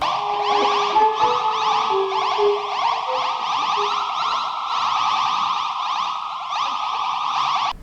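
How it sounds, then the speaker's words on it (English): A harsh, pulsing electronic warble drones on without a break, an eerie chirring effect for giant ant monsters rubbing their legs together in Doctor Who. "They communicated by rubbing their legs together and making this horrible sound."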